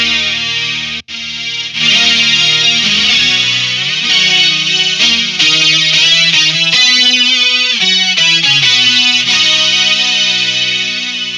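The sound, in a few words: guitar through Boss SY-1 synthesizer in lead mode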